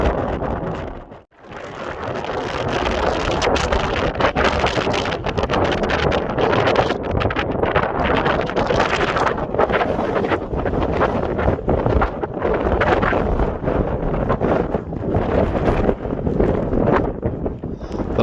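Strong wind at the Mull of Galloway, Scotland, roaring and buffeting the microphone continuously, loud and gusty throughout with a brief lull near the start.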